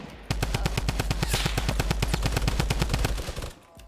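Rapid automatic gunfire from a gun in the video game Fortnite, a loud unbroken burst of evenly spaced shots lasting about three seconds before cutting off.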